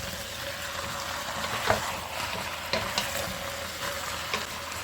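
Meat and onions frying in a pot for Iraqi lamb tashreeb, a steady soft sizzle with occasional scraping stir strokes, close and moderately quiet with no talk.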